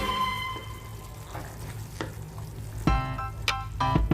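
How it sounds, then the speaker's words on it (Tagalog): Cream-based spaghetti sauce for chicken linguine being stirred in a pan, with a steady sizzle under soft scraping, a few sharper clinks of the utensil against the pan, and a brief tone near the start. "So, we need to mix this sauce."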